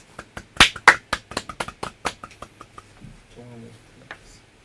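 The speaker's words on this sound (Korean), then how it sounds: "큰 박수로 좀 시작을 하도록 하겠습니다." A small audience at the opening of a Korean youth group's special lecture on adopting a volunteer military system gives a brief burst of scattered hand claps that thins out after a few seconds, with a faint voice near the end.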